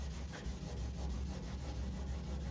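Sandpaper rubs across clear coat on a painted surface in steady, close back-and-forth strokes, a continuous dry scuffing with no voices.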